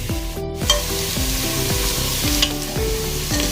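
Onions frying in a pan, a close crackling sizzle broken by repeated scraping stirs of a spatula at a quick uneven rhythm.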